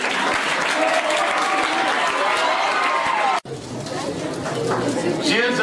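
Tenth-grade students at an academy farewell event clap loudly and steadily in a crowded hall, dense applause continuing after a brief break, with chatter and a voice mixed into the clapping.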